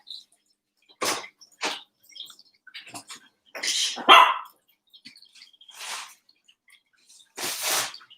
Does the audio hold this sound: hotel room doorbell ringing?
no